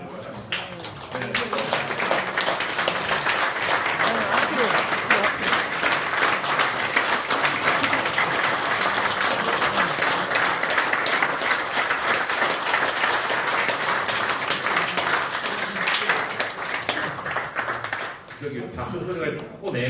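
Sustained, dense applause from an audience at a Korean Christian council forum, honoring pastors who have stood up. It swells in quickly, holds steady and loud for about sixteen seconds, then thins out near the end.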